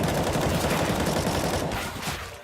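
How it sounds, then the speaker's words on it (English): Rapid automatic gunfire in CS:GO on the Inferno map as a player pre-fires around a corner, a dense, loud sustained burst that tapers off near the end, with no voices. "Ooh, pre-firing around the corner."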